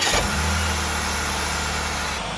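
A 1998 Holden VT Commodore engine, freshly fitted with a new starter motor, fires up and settles into a steady, loud idle, a continuous low engine drone running through the whole stretch without any talk.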